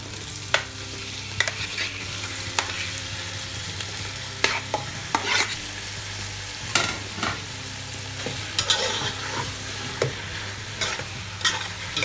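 Pork frying and sizzling in a pan while adobo is cooked, a steady close hiss with repeated sharp clatters of stirring throughout.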